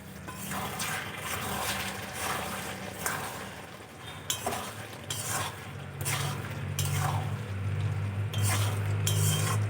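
Ghee and garam masala are stirred into a fig (dumur) curry in a pan: a steady low cooking rumble with repeated metallic clinks and scrapes of a spoon against the pan, close and moderately loud, no talking.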